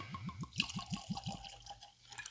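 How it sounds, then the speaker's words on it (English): Bourbon whiskey from Still Austin glugs out of a bottle just opened from a synthetic cork, a quick run of about seven close, rhythmic liquid gulps followed by a softer trickle and faint splash. "Gonna go ahead and get a pour on."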